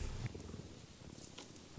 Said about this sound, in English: I revved up his purr motor with a neck scratch.